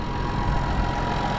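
A McCormick MTX 110 tractor with a Perkins engine runs steadily nearby, a loud, even mid-to-low engine drone with no change in pace and no voices.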